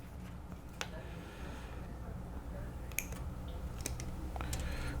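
Hobby nippers snipping a plastic model kit part off its sprue, a few sharp clicks spread over several seconds against a steady room hum, close and quiet.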